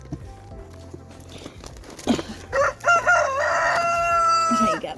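Chickens at a farm feeding spot break into a loud cock-a-doodle-doo crow, then a second rising crow with clucks, over softer scratching and shuffling of birds being fed.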